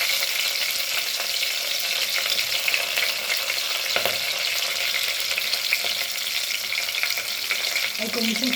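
Shahjeera and biryani spices fry in hot oil in a pan for bagara rice, giving a steady, close hiss of sizzling with occasional faint stirring scrapes throughout.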